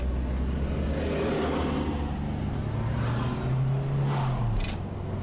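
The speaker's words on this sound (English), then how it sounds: "We'll let this car go by." A car passing on an asphalt road, a steady broadband rumble of tires and engine that swells slightly as it goes by, with a low engine drone underneath.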